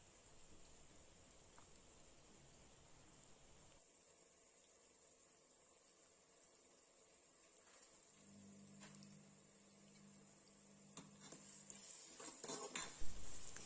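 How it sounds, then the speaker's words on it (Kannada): Spoon scraping and stirring chili powder into rice bath in a metal pan, soft clinks and scrapes at close range, a low hum in the middle and a louder clatter at the end. "ಚೆನ್ನಾಗಿ ಮಿಕ್ಸ್ ಮಾಡೋಣ"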